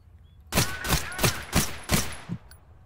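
AK rifles fire in the video game Total Conflict: Resistance, with five loud, evenly spaced shots followed by a fainter sixth, each cracking sharply with a brief tail.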